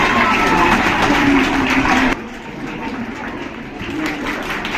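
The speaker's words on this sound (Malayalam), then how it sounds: "എല്ലാവരും ഒരു നല്ല കൈയടി നൽകുക." Audience at an award ceremony claps in a dense, continuous burst for about two seconds, then it drops to a quieter, thinner patter that carries on underneath.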